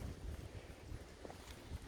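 Wind gusts buffet the microphone on a midnight walk outdoors with collie dogs, a faint, rough low rumble that swells and fades unevenly with no voices.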